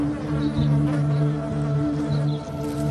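Swarm of bees buzzing at a nest, a dense continuous hum with steady low drone and scattered higher whines, close and sustained with no talking.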